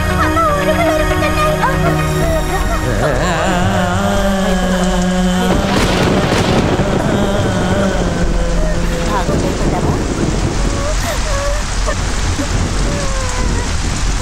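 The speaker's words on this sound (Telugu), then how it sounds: "పెద్ద వర్షం వస్తుంది" Heavy rain pours steadily throughout with a rumble of thunder, loud and continuous, while voices and music from a dubbed movie scene run over it in the first half.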